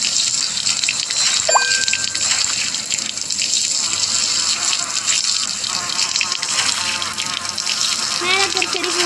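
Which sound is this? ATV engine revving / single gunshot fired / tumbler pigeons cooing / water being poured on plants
water being poured on plants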